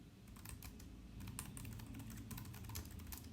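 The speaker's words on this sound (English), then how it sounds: "getting sick of typing that now" Quiet, rapid clicking of keys on a computer keyboard, a continuous burst of uneven taps with no voices.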